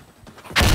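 A grenade goes off in Insurgency Sandstorm, a sudden loud, broad blast bursting in near the end after quieter muffled game sounds.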